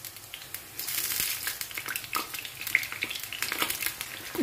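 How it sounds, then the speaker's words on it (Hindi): Sliced medium potatoes fry in a pan, giving a steady crackling sizzle with scattered pops and light crinkly stirring, close and moderately loud, with no talking. "अब मैं इसमें करूंगी आलू फ्राई।"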